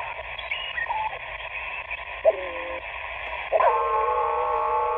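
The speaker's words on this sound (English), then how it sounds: "Swiss station coming very loud" A Swiss shortwave station comes in on a Sony ICF-SW55 receiver as a narrowband, slightly tinny signal with warbling tones and fading, constant static, and a couple of abrupt tonal shifts.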